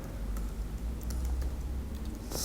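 Rapid, close clatter of a computer keyboard as PHP code is typed, steady, even keystrokes with no talking.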